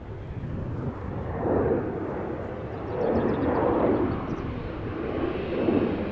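Airbus A330neo airliner engines roaring at Amsterdam Schiphol Airport, a broad steady rumble that swells and fades in slow waves as the jet passes at moderate distance, with some wind noise and no talk.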